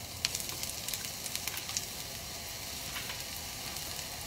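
Onions sizzling in hot oil in a pan for a potato casserole filling, a steady close hiss with faint crackles and a few small pops near the start.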